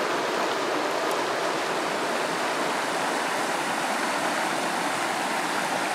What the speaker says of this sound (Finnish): Komeeta joki- ja koskipätkäähän tässä on.